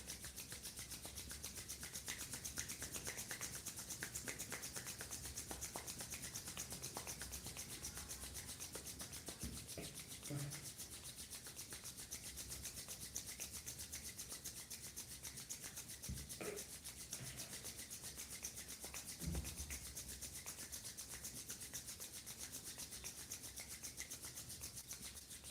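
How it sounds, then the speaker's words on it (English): Palms rub slowly together in a soft, continuous swishing friction that stays close and quiet, with no talk over it. "Slowly rub your palms."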